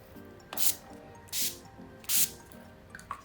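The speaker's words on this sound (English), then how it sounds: "set everything with the all-nighter setting spray by Urban Decay." Urban Decay All Nighter setting spray misted onto a made-up face: three short, crisp hissing spritzes in an even rhythm, close and fairly loud, with faint rustles after.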